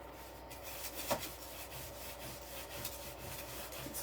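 A dry floral stem from a Dollar Tree pumpkin wreath is rubbed by hand, giving a soft, steady scratchy rustle with one slightly sharper scrape near the start. It is quiet and close, with no talking.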